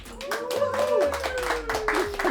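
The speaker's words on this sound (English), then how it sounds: "Round of applause for Gita." An audience gives a short round of applause at a cooking-show gathering, claps scattered and close, mixed with overlapping voices and excited chatter.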